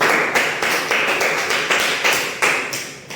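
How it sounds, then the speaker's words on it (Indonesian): A classroom group applauds together in a steady, rhythmic clapping pattern with regular accented bursts, fairly close and loud, with no talking. "Oke, tepuk tangan untuk kita semua hari ini."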